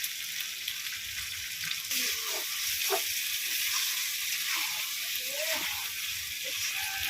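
Ground garam masala paste of cinnamon, cardamom and clove sizzles steadily in a pot for Kashmiri-style potato dum with meat, a soft, continuous frying hiss with faint stirring.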